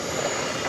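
Jet airliners at New York JFK airport, heard from a high viewpoint overlooking the wings: a steady, broad engine roar fills the whole moment without letup, loud and close, with no voices.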